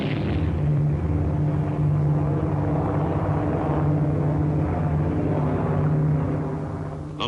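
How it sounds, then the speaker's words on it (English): Liberator bombers of the 7th Air Force in flight over the Pacific in wartime footage, a steady loud droning engine roar with a constant low hum, fading slightly at the end. "7th Air Force bombers began a series of strikes against that enemy stronghold"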